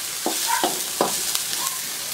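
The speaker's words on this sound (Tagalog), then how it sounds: "Tapos ang ating sibuyas, ihalo na natin." Onions are stirred into frying lechon sisig in a hot pan, a loud, close sizzle broken by a few distinct scraping strokes of the spatula.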